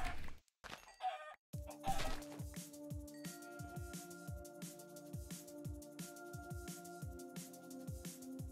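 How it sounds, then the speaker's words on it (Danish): Chicken clucking in a video game, a run of short, evenly paced clucks over steady game music, close and fairly clear, with a brief noisy burst at the start. "Kylling!"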